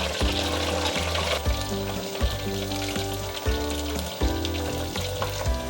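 King oyster mushroom pieces deep frying in hot oil give a steady, dense sizzle and crackle, with a few brief stirring knocks, and no one speaking.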